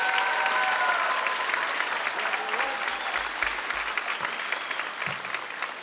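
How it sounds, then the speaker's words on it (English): An audience at a band concert claps in a full, close round of applause that holds steady for several seconds and tapers slightly toward the end. "can we give them another round of applause for locking in?"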